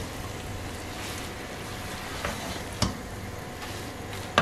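Egg noodles for egg chow mein stir-fried over a high flame give a steady, close sizzle with a few soft stirring clatters and one sharper knock near the end; no voices.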